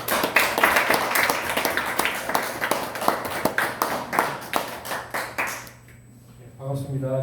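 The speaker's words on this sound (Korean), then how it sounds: "김재현 박사님 나오실 때 큰 박수 부탁드립니다." An audience at a health lecture claps to welcome a speaker, a sustained round of close, rhythmic applause that fades out near the end as a voice begins speaking.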